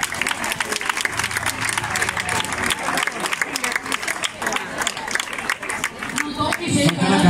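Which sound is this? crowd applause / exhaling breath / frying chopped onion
crowd applause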